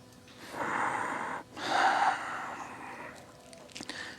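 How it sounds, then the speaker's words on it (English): Slow, audible breaths during a seated yoga twist: two long airy inhale-exhale swells close to the microphone, followed by quieter breathing and a few small soft sounds. "Breathing, finding the length on the inhale and the twist on the exhale"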